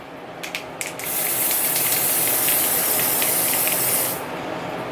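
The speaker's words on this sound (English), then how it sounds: "You just take it and spray it." A steady, hissing spray of setting spray mists continuously onto a face for about three seconds, close by, after a few light clicks.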